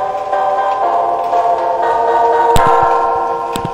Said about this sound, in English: Now, you could go with tubular bells,